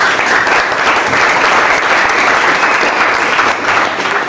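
A seated audience claps for the staff at a training session, producing a dense, steady burst of applause throughout, with no voices over it.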